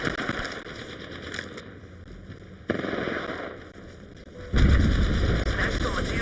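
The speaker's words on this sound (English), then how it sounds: "They're shooting at me." Video game gunfire during a hectic battle-royale match, with dense crackling shots and bursts that swell sharply loud near the end, while a voice talks over the action.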